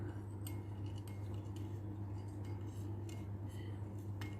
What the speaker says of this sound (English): I have to stir it so many times just in order for it to dissolve